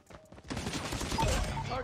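Rapid automatic gunfire in the mobile shooter game COD Mobile, a dense burst of close, loud shots rolling on for most of the moment with a voice faintly under it.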